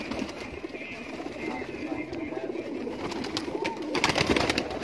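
Laal Pari breeder pigeons cooing at a Kasur pigeon-keeping gathering, soft low coos over a busy outdoor background with some voices present.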